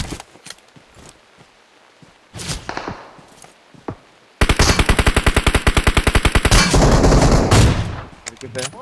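Gunfire in the mobile battle-royale game Battlegrounds Mobile India on the Sanhok map: a few scattered single shots, then a loud, rapid automatic burst of evenly spaced rounds lasting several seconds before tapering off.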